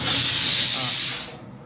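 Steam hissing hard from a pressure cooker whistle while mutton cooks, a loud, close, continuous spray-like rush that fades out abruptly near the end.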